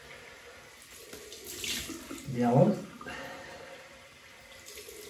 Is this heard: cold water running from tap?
yes